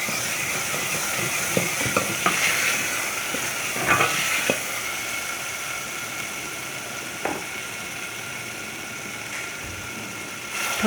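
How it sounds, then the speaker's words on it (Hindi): Meat goes into a pan while cooking a chicken and vegetable macaroni dish, giving a steady sizzle and hiss with a few sharp clinks and scrapes of stirring early on, then a continuous frying sound. "अब हम इसमें गोश्त डालेंगे।"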